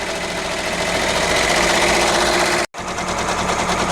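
A Brother BabyLock Venture embroidery machine stitches with a loud, steady, rapid mechanical whir and buzz close by, briefly cutting out for an instant before resuming.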